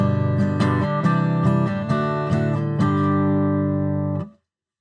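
An acoustic guitar played through a Fractal amp-modeler preset with the graphic EQ switched off strums several bright, ringing chords in an even rhythm, close and alone, before cutting to silence.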